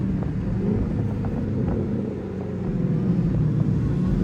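Loud, steady engine drone of a Dodge Demon 170 with its hood removed, a high supercharger-style whine riding over low rumble, close up and continuous, no voices.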